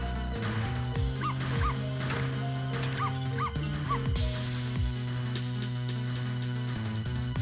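Repeated dog barks and yips from the video game Ghost Trick: Phantom Detective, several sharp bursts in a rhythmic series over steady game music, fairly close and clear.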